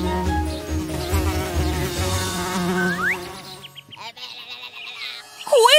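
A cartoon bee gives a wavering, close buzz that rises and falls in pitch, tapering off midway and followed by a few quick swooping whistle-like tones.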